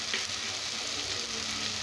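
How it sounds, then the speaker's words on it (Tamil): Tomato sautéing in a pan with chili powder and coriander powder for a mushroom curry gives a steady, close sizzle with a dense frying hiss that runs without pause and no talking. "ஒரு நிமிஷம் வதக்கிக்கலாம்."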